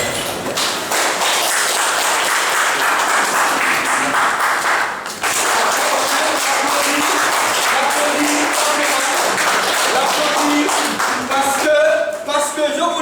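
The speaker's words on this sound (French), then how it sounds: "Nous vous prions de l'applaudir" A studio audience gives long, loud applause for a Guinean artist guest, with rhythmic clapping and a brief dip midway, then voices and scattered claps as it winds down.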